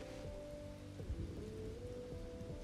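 Steady rain hisses over a scene in the video game Bugsnax, a dense constant patter with a low rumble beneath and no voices.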